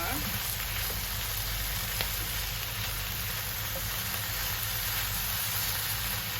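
Broccoli, mushroom and cauliflower sautéing in a pan, a constant dense sizzle and hiss that holds steady throughout.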